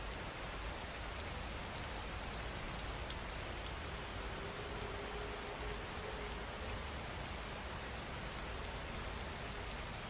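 Steady rain falling on a surface at night, a dense, even hiss that continues unbroken for the whole stretch with no voices or other sounds.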